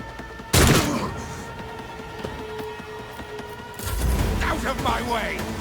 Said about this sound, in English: Okay, then let's just shoot.